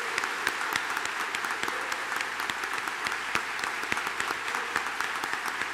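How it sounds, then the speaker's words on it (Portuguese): A church congregation gives a warm, sustained round of applause, dense and even clapping throughout with no voices rising above it. "toda a igreja desse uma calorosa salva de palmas aos nossos defensores"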